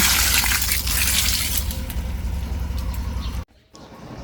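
Rice-washing water pours out for watering plants in a loud, steady gush that cuts off briefly near the end before a softer trickle resumes.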